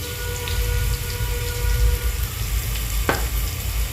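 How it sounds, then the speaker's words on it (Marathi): Garlic, asafoetida and turmeric fry in hot oil for palak dal dhokli, a steady close crackling sizzle with a low background hum and one brief clink partway through. "लसूण लाल होतंय, हिंग टाकत आहे आपण, हिंग टाकल्यावर हळद टाकत आहे।"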